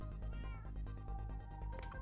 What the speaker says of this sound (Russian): там кошка мяукала?